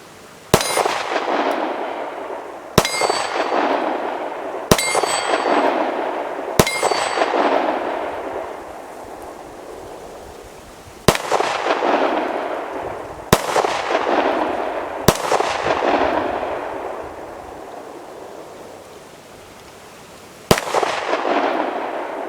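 Gunshots ring off steel targets at an outdoor range, eight sharp reports each followed by a bright metallic clang and ringing decay, spaced irregularly a few seconds apart.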